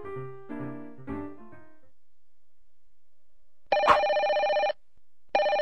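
An office telephone rings in two electronic bursts, the first about a second long and the second cut off, clear and close after a stretch of quiet, with a brief tonal chime earlier.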